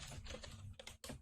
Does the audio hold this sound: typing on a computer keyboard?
yes